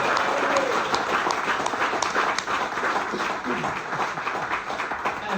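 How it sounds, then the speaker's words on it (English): An audience at a comedy gig in a club applauds, producing a dense, sustained burst of clapping that fills the room and holds steady throughout. "Big round of applause for my wee pal, David Delinquent."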